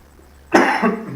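A single sharp cough from a man who has been ill, one abrupt burst after near silence, close and fairly loud, with no talk around it.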